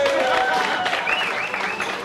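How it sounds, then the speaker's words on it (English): In a bar, a crowd gives a brief burst of dense applause while a voice talks over it, and the clapping fades slightly toward the end. "He does deserve a special round of applause."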